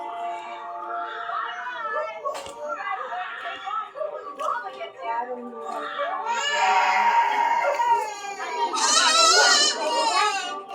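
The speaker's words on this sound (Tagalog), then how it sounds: "Umiiyak na yung bata. Hinahanap yung nanay niya." A young child cries and wails for its mother at home, rising sobs and higher-pitched cries that grow louder toward the end, mixed with adult voices talking nearby.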